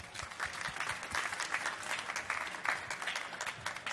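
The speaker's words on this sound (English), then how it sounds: "Big applause for kikaGO." Applause rings out for the startup kikaGO at a consumer tech pitch event, a steady, fairly distant wash of many hands clapping with no break.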